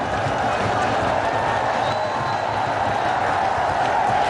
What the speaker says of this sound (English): something for the crowd to cheer